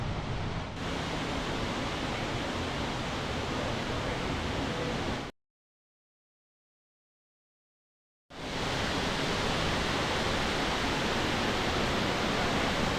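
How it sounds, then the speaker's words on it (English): A waterfall on the Top of the Rock cart trail in Branson sends out a steady, broadband rush of water, loud and constant, then cuts to silence for about three seconds before the same roar resumes. "It's a waterfall."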